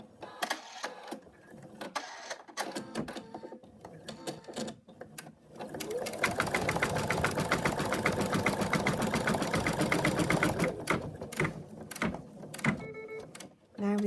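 A sewing machine stitching cloth runs in a sustained rapid whirring burst in the middle, framed by clicks, handling noises and a voice talking at the start and end.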